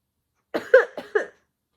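Four short demonstration coughs into the elbow in a kindergarten citizenship lesson, close and distinct, with brief gaps between bursts, then silence.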